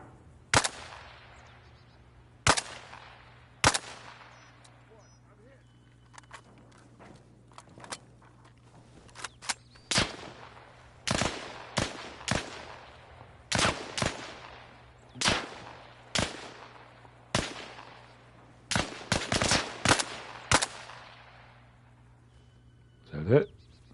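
Gunfire from the player's own weapon in Arma Reforger, sharp single shots cracking out one at a time at irregular intervals, loud and close, over a low steady hum with speech occasionally in between.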